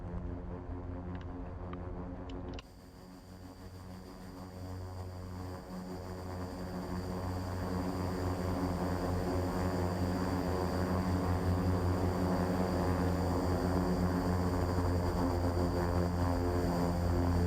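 King Air 350 twin turboprop engines in X-Plane 11 at Aspen airport, a steady loud propeller drone that swells as power builds for takeoff after a brief quieter start.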